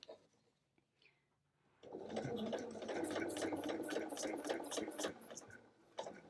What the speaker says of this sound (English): as I am sewing my line, I'm going to slowly bring them in together.